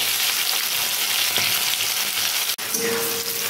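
Yardlong beans with potato sizzle and crackle steadily while frying in a pan, a continuous close hiss broken by a brief scrape of stirring, with no talking.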